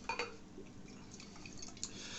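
Low-alcohol beer poured from a can into a glass, a quiet liquid trickle and splash with a few faint glassy taps, alone and fairly soft.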